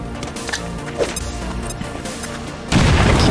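After a stretch of quieter tactical game ambience and small clicks, a grenade goes off in XCOM 2 with a sudden loud boom that settles into a heavy, sustained rumble to the end.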